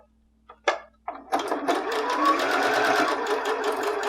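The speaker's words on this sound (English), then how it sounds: "You might have to move your fabric a little bit around as you're sewing because this is kind of a tight" A sewing machine stitches a fabric scrunchie in a tight spot, starting with a few short bursts before settling into a steady, fast, close-up whirring run that lasts to the end.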